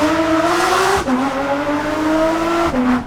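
A loud, raspy straight-piped Porsche 992 GT3 RS engine revs hard in a steady, sustained roar, with pitch shifts between gears and no talking.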